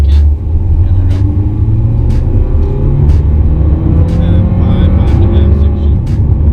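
A Hyundai Veloster accelerates on a road during a speed test, heard from inside as a loud, steady low engine rumble with rising revs and scattered clicks from bumps in the road.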